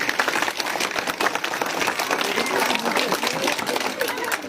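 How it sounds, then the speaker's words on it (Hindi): Children clap together at a Holika Dahan Holi gathering in Keshav Nagar, Doda, Jammu and Kashmir: a dense, steady patter of many small hands that continues throughout, with voices mixed in. "बच्चे आप सबके नाम की ताली बजा देंगे"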